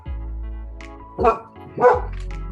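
A dog gives two short barks a half second apart, close and fairly loud, over a steady background hum.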